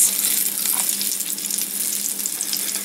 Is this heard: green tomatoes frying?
yes